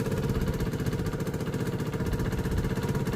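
A Gilera DNA scooter engine, just back running after a carburetor and fuel pump fix, idles at low revs with a steady, rapid putter, close and continuous with no talk.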